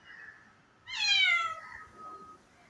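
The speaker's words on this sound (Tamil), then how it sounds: "பூனைடா பார்த்தீங்களா பூனையா" A cat gives a single clear, close meow that rises and then falls, with quiet background noise before and after it.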